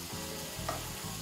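Sirloin beef sizzling and frying in a pan as it is basted, a steady close crackle with soft stirring and spooning scrapes, no voices.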